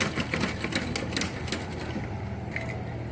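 A sewing machine runs a short back stitch at the end of a neckline seam on a slit neckline, its steady mechanical rattle broken by a few brief stitch bursts, close and fairly loud with no voices.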